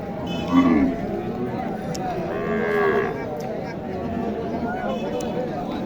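Cattle lowing at a livestock market in Naogaon, where cows and calves are sold; a deep moo rises near the start and another later, over steady crowd noise and people talking.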